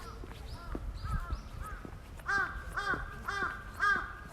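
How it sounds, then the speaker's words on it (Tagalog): Crows cawing at a Japanese temple, harsh repeated caws in a steady run of four or five calls, moderately near over a low murmur of outdoor background noise. "Maraming uwak"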